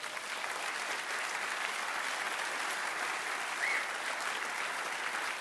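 An audience at a public debate on the existence of God gives steady, even applause, a dense and unbroken patter heard from some distance at a fairly low level.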